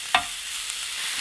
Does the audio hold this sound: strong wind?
no